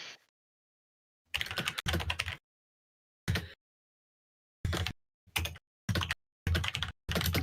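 Bursts of computer keyboard typing, quick clusters of key clicks separated by silent pauses, fairly close and moderately quiet, with no voices.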